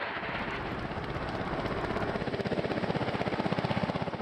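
A Russian helicopter's rotor thumps steadily and rapidly, the rhythmic chopping growing more distinct over a loud engine roar.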